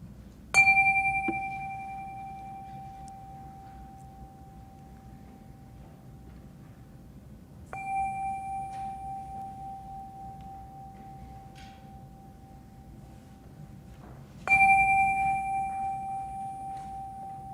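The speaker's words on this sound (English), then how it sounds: "let us settle our minds, calm our hearts with the ringing of our chime." A single chime rung three times at the opening of a Sunday service, each clear metallic strike ringing out and slowly fading in a quiet room, spaced several seconds apart.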